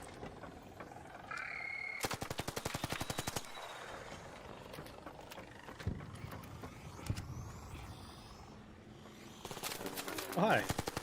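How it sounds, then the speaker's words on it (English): Gunfire in the video game Moonlighters 2, aimed at a surveyor: two bursts of rapid machine-gun fire, one early and one near the end, with quieter game ambience and a voice talking in between. "he's shooting at the surveyor"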